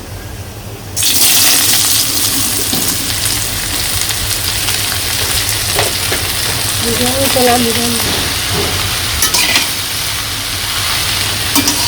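Mustard seeds and water lily stems dropped into hot oil in a village-style kitchen: a sudden loud, dense sizzle erupts after a second and continues steadily, with stirring scrapes and spits through it.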